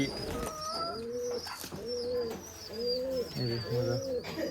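Rajshahi Giribaj pigeons coo close by in a steady series of soft, rolling calls repeated about four times, with faint chirps and a brief human voice mixed in at the start.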